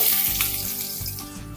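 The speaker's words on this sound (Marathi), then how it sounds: "आता आपण तेल गरम झाल्यानंतर यामध्ये फोडणीला कांदा घालूया" Steady, loud sizzling of onion frying in hot oil, a dense crackling hiss with no voices.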